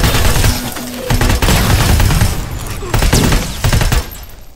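Rapid bursts of loud automatic gunfire from a robot in the video game Terminator Resistance crackle and boom in close succession, with short pauses between volleys and a mechanical whirring in the background.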